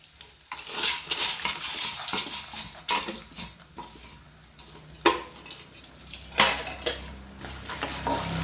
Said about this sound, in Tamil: கடுகு பொரிஞ்ச உடனே கடலைப்பருப்பு உளுத்தம் பருப்பு எல்லாத்தையும் சேர்த்துக்கிறேன்